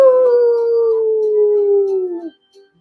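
A wolf gives one long, loud, close howl that holds steady for about two seconds, sliding slightly lower before breaking off, followed by a brief faint trailing note.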